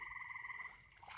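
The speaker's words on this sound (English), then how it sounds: "There's frogs in there." Frog croaking in a creek at night, a quick pulsing trill that rattles rapidly for most of a second, fairly faint but clear against quiet outdoor background noise.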